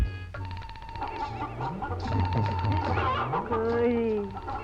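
A live chicken clucks repeatedly in a comedy film scene, loud and close, its clucks running together with people talking over it.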